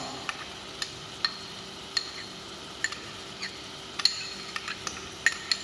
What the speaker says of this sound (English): Now mix it properly. With the butter and other vegetables.